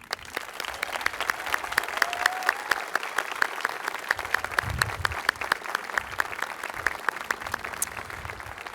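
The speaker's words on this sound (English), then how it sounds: "A round of applause." An audience applauds at the Swampscott High School 2022 graduation ceremony for a scholarship recipient, with steady, sparse clapping from a moderately distant crowd that holds an even pace throughout.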